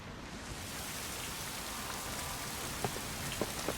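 Steady rain falls in the video game Wild Hearts, a soft continuous hiss of drops on surfaces with a few brief louder taps near the end.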